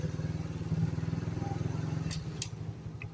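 A cup-style motorcycle runs close by with a steady, throbbing engine under a sustained low rumble, while the rider works the clutch in and out of neutral and shifts gears. A few light clicks and clunks come near the end.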